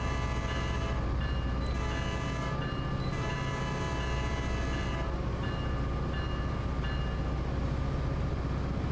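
A Metrolink commuter train on the San Bernardino route in Train Sim World 5 runs with a steady low rumble and faint rhythmic clatter, a constant loud drone with no voices.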